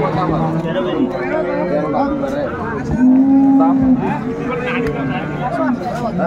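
Cows low at a busy cattle market in Ambari, Dinajpur, with one long loud moo standing out over a dense crowd hubbub and nearby people talking.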